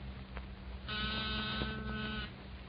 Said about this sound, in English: That's nothing but a small buzzer and battery set. An ordinary door buzzer.